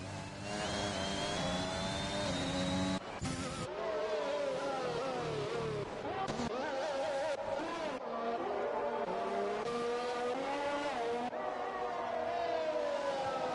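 Loud, steady engine whine of a McLaren Formula 1 car in F1 2021 at the Austrian circuit, revving up and down through gear changes with a brief cut near three seconds, continuous and close throughout.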